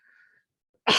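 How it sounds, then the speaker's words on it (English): A single short, sharp cough bursts out close at the very end after near silence, preceded by a faint tone. "I am coughing a little bit"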